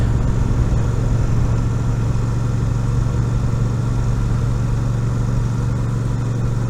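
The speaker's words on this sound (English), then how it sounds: "You hear that nice little burble at slow speeds" A Royal Enfield Super Meteor 650 rolls at slow speed with a low, steady engine burble, even and continuous throughout, with no voices.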